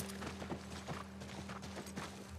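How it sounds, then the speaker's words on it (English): Horse hooves clip-clop in a steady walking rhythm while riding in The Last of Us Remastered, moderately close over a constant low hum and ambient game sound. "God, we're on a horse."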